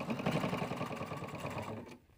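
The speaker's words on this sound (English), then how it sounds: "Let's go step to our machine and sew this." A sewing machine runs steadily, stitching seams on an elastic strap with a fast, even mechanical chatter up close, then stops abruptly near the end, leaving near silence.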